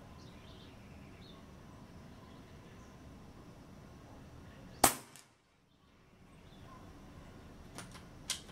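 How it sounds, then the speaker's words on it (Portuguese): A Leviathan 5.5 air rifle firing an 18-grain JSB pellet at a 50-metre target gives one sharp, loud crack mid-clip, followed by brief silence and faint distant ticks, over a quiet outdoor background. "Vamos para o segundo disparo."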